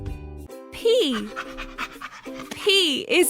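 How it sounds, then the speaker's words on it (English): A puppy pants rapidly and close up, mixed with a bright, sing-song voice and light chiming tones. "P is for puppy."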